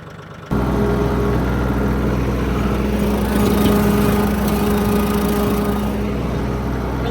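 A tractor engine runs steadily in a pasture, loud and close. It starts abruptly and then holds a constant, droning hum with a slight rise partway through.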